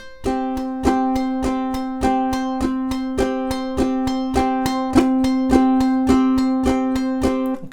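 A ukulele plays St. Anne's Reel at a quicker tempo with percussive strumming, each sharp, evenly spaced stroke ringing out in a steady driving rhythm, close and fairly loud with no voices.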